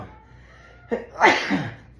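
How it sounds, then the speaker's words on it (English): A single sharp sneeze, a short inhale followed by a loud burst, close and alone. "I'm about to sneeze."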